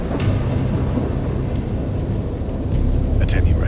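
Thunderstorm in the video game Dagon: steady heavy rain with low rumbling thunder rolling throughout, loud and close, swelling slightly near the end.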